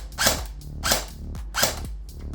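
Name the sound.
battery-powered gun dry firing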